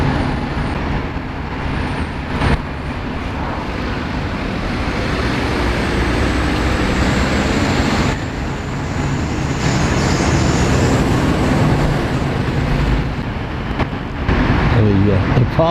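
Chester city buses in morning rush hour traffic: diesel engines rumble and idle with passing vehicles and occasional air-brake hisses, all under someone talking.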